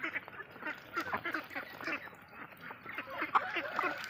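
A flock of laying ducks on a duck farm in the morning, many ducks quacking continuously in overlapping calls, fairly close and busy, with a voice faintly mixed in.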